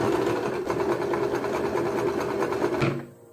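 A sewing machine stitching a patchwork sweatshirt runs in a steady, fast mechanical chatter for about three seconds, close and loud, then stops abruptly.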